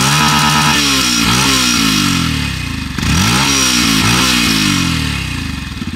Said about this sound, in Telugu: అండ్ ఒకసారి మనం ఎగ్జాస్ట్ నోట్ అయితే విన్నాం.